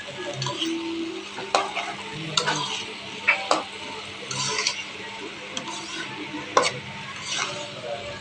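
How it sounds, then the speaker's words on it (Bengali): Steamed banana stem stirred in a pan on low heat, irregular spatula clinks and scrapes against the metal over a soft sizzle, close and without speech. "এগুলোকে আমি আবার ভালো করে নেড়ে চেড়ে নেব"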